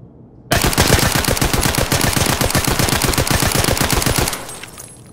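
A gun firing in the Escape from Tarkov video game: one sustained, loud, rapid automatic burst of evenly spaced shots lasting about four seconds, then tailing off into a brief echo.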